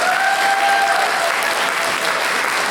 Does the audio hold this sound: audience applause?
yes